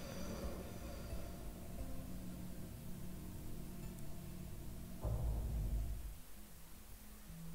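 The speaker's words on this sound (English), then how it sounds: "there goes the dark side train" Trains rumbling past in The Darkside Detective, a steady low roar of rolling wagons with a louder burst of rumble near the end as one passes close, no talking over it.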